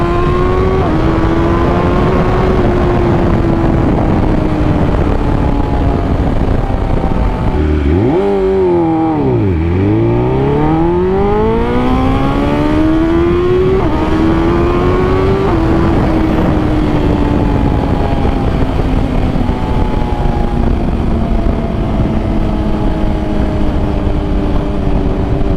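A 2020 BMW S1000RR liter-bike engine roars close and loud throughout a ride, holding steady revs, dropping sharply around one downshift before climbing back up, then settling into a sustained high drone.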